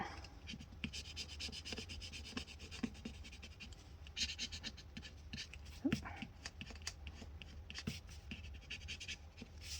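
Repeated rubbing and scraping strokes of a scraper smoothing a planner sticker to push out air bubbles, close and fairly quiet, with faint background noise.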